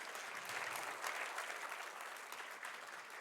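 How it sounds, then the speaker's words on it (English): An audience at a talk on Putin's war in Ukraine applauds, a steady dense wash of clapping that holds evenly throughout at moderate distance, with no voices over it. "can we all give him another round of applause?"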